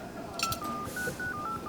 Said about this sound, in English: I'm calling number on the website